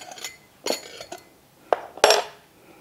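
A spoon stirring a spoonful of milk and a spoonful of beetroot juice in a small bowl, giving a few irregular metallic clinks and scrapes against the bowl, close by and separated by short pauses, with no voices.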